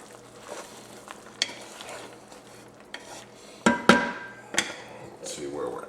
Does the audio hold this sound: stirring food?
yes